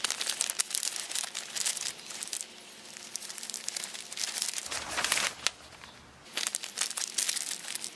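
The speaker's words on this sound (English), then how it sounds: "Even if you have just a plain old piece of plastic that you use for putting over your trailer or for camping" A plain plastic sheet crinkles and crunches as it is handled up close, in irregular bursts with brief quieter pauses.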